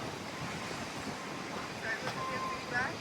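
Steady, roaring wind buffets the microphone outdoors at the Natural Bridge coral limestone formation in Aruba, with surf rumbling beneath and a few faint higher tones drifting through.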